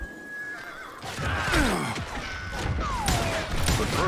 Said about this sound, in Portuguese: Ó o cavalinho.